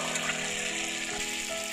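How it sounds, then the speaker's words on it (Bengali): Whole cumin, coriander, dried red chillies and garam masala being sautéed in a pan for a vegetarian soybean curry, giving a short, steady, close frying hiss with no talk. "মশলা ভালোভাবে কষে নিয়েছি"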